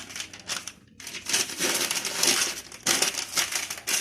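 Paper crinkles and crumples up close as meat and tomato slices are wrapped in it, coming in uneven bursts of rustling with brief pauses between.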